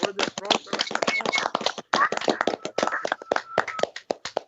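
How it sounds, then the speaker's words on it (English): Crowd applause, a dense patter of many hands clapping, with voices talking loudly over it throughout. "Can we give him a round of applause?"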